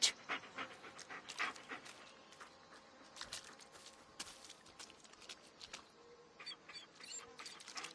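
A dog in the horror game Blair Witch pants rapidly and sniffs close by, with soft footsteps rustling through forest undergrowth and quiet ambient sounds.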